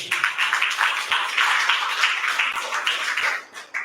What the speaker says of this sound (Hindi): प्रभु को महिमा देंगे तालियां हो जाके